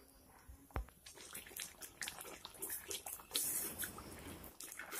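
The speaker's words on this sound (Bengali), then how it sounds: "এখন এই তরকারিটিকে 2 থেকে 3 মিনিট ফুটিয়ে নিতে হবে।" Ridge gourd curry simmers in a pot, with soft bubbling and liquid sputters scattered across the stretch, a sharp clatter near the start and a burst of louder bubbling midway, heard close and alone.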